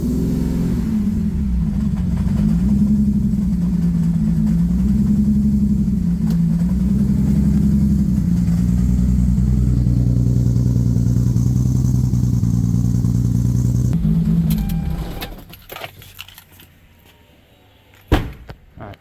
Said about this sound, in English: I'll do a quick little start up.